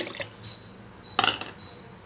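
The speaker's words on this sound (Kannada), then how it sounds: "ಈಗ ಇದಕ್ಕೆ ಸ್ವಲ್ಪ ನೀರು ಸೇರಿಸ್ತಾ ಇದ್ದೀನಿ" A brief splash of water poured into spiced buttermilk in a container, with faint drips and trickles before it in a quiet setting.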